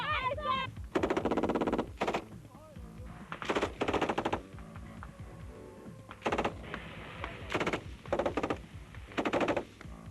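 An M249 SAW squad automatic weapon fires about 1,000 rounds per minute at a Marine Corps boot camp range in 1989, in several loud, rapid bursts separated by short pauses, with voices shouting in between.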